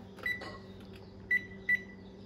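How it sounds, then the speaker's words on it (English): A home kitchen oven's control panel being set to 325, giving three short electronic beeps, one early and two close together later, near and clear over a faint steady hum. "I want to turn on the oven to 325."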